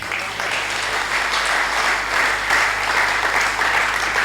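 A church congregation claps in loud, sustained applause, a dense even wash of hand claps that keeps going from start to finish with no voices over it.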